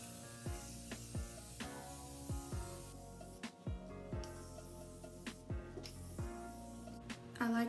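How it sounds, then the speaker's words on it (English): Morphe makeup setting spray mists out in about eight quick, soft pumps at an irregular rhythm, each a brief close hiss, with faint background sounds between them. "It's the Morphe setting spray"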